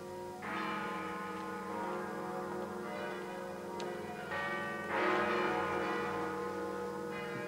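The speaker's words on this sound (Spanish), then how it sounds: "¿Por qué tocan las campanas?" Church bells ring continuously in a period drama set in Mozart's time, overlapping strikes with long resonant tones that swell and layer at a steady moderate distance, with no voices over them.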